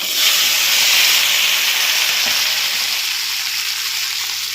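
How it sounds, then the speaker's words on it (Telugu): Tempering spices and lentils fry loudly in hot oil for a drumstick, tomato and carrot curry, a dense close hiss that eases slightly near the end. "ఆయిల్ అయితే పెట్టాను పోపు వేసుకుంటున్నాను పప్పు అయితే కాలింది"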